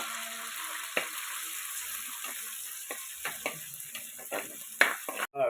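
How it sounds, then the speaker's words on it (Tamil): Mustard seeds splutter in hot oil, a steady hiss of sizzling broken by scattered sharp pops and crackles, close and moderately quiet, with a brief clatter at the end. "கடுகு நல்லா பொரிஞ்சு வரட்டுங்க."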